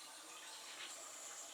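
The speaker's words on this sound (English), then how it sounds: "Sorry about the water noise, guys, but I've got to cool the eggs down." Tap water running steadily to cool boiled eggs in a kitchen, a soft even hiss of flowing water, faint and unbroken.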